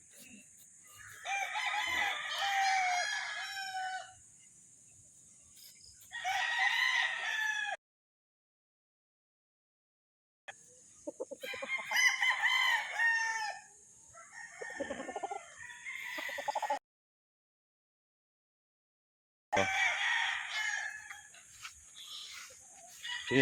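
Several street comb breed roosters crow in turn, repeated long calls overlapping at times, moderately close, with gaps of silence between bursts.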